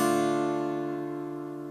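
A single strummed open minor chord on guitar rings alone and close, its sustained strings decaying gradually over a couple of seconds.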